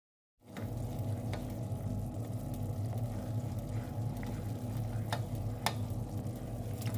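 Agar powder and water boil in a pot on the stove, a steady soft bubbling hiss with a low rumble that starts abruptly and continues evenly, broken by a few faint clicks.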